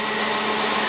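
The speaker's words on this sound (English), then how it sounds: "4mm drill. It's sort of bronzy material," A 4mm drill bit bores into bronze-like metal with a loud, steady whir and a dense grinding hiss, continuous for the full second with no pauses or talking.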